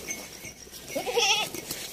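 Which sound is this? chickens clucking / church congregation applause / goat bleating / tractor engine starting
goat bleating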